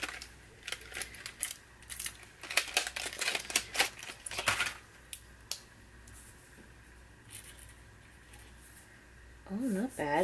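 A Craft Smart fineliner marker scratches across blank paper in quick, faint strokes, close to the microphone, followed by a short stretch of quieter strokes.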